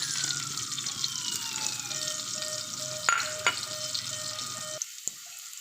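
Garlic and onion fry in a pan for pork steak, a steady close sizzle with a few clattering stirs, while a faint siren-like whistle rises and falls in the background.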